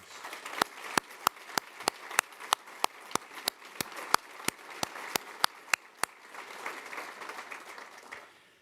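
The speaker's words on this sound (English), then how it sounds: "would you please give him a round of applause?" Audience applause for an award recipient at a prayer breakfast: a modest crowd claps with loud, regular nearby hand claps punctuating the patter, which thins and tapers off in the final seconds.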